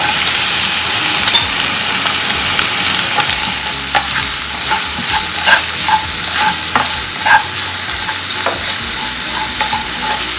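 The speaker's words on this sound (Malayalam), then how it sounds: "സവാള ഇട്ട് കൊടുക്കാം." Sliced onions frying for a Kerala prawn roast, a loud bright sizzle with repeated scraping and clacking of a spatula stirring the pan, steady and close throughout, no voices.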